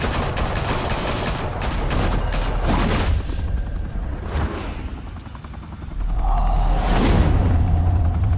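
Bursts of automatic gunfire in a Batman video game crackle over a constant helicopter-like drone, with several loud rapid volleys and whooshing impacts.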